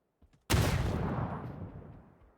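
A burst of gunfire in PUBG, one sharp loud report after a brief quiet, followed by a long rolling echo that slowly fades away.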